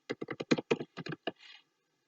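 Typing on a computer keyboard while filling in an email sign-up form: about a dozen quick, crisp key taps in an uneven burst, close and clear, ending in a soft brief rustle.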